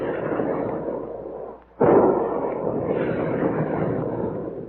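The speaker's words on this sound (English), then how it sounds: "Big guns. Hear them?" Big guns booming in an old radio drama sound effect, a continuous rumbling barrage with a brief gap before a heavy blast resumes the dense, loud firing.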